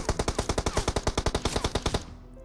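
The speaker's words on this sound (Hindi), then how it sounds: "लेकिन भाई बंदा अंधा फायर कर रहा था" Rapid automatic gunfire in the BGMI video game, a quick burst of about twenty sharp shots in even rhythm that stops abruptly, leaving a faint hum.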